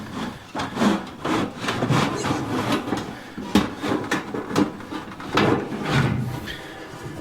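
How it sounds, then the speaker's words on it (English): The cover of a chicken nest box, freed of its two bolts, is slid out with rough rubbing, scraping and knocking, close by and in uneven bursts, with no talking. "lift the cover that was held in place with 2 bolts you just removed. So I'm just gonna slide it out, I guess."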